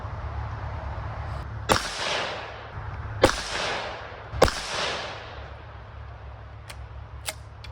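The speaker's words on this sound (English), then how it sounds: "I'm going to shoot 2 rounds" Rifle fitted with a Limbsaver barrel dampener fires three sharp, loud shots at irregular intervals, each with a rolling outdoor echo, followed by a few faint clicks.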